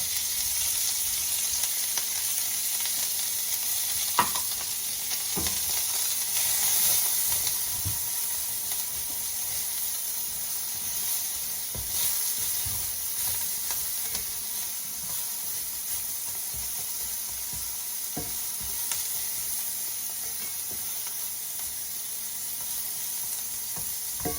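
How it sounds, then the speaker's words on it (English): Onions sizzling in olive oil in a pan while a low-carb chili verde is cooked, a continuous moderate hiss with scattered small pops and faint clicks throughout. "we're going to take a little bit of olive oil in the pan. Put our onions in there."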